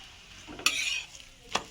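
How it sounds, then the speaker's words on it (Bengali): A paratha for an egg roll fries in a pan, being turned and pressed as it browns: a faint steady sizzle broken by two sharp scraping stirs, with no talk. "এভাবে উল্টে পাল্টে চারিপাশটা লাল লাল করে ভেজে নিতে হবে"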